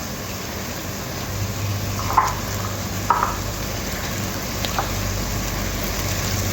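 Coriander and mint leaves frying in a pan for masala chicken biryani give a soft, continuous sizzle, with a few sharp clinks of a utensil against the pan.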